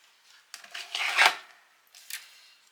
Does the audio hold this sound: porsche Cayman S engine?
no